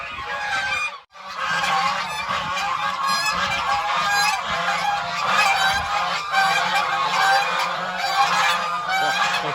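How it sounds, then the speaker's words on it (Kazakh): A flock of farm geese honks noisily and continuously, many loud overlapping calls close by with only a brief pause near the start. "Шулап жатқан қаздар."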